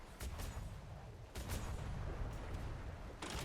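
Ship cannons boom in a naval battle against a schooner in the video game Atlas, with several heavy broadband blasts firing in separate volleys over a constant low rumble of sea and wind.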